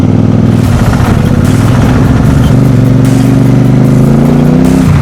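A Royal Enfield Super Meteor 650 motorcycle engine thrums loud and close while riding in a traffic jam, its steady low throb shifting pitch as the throttle rises and falls, with no talking.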